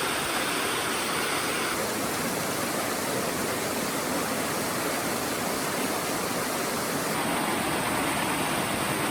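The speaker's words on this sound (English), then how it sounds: "Look at that waterfall." A waterfall on the Pacific Crest Trail in Washington roars in a steady, dense wash of rushing water, loud and continuous throughout, with no one speaking.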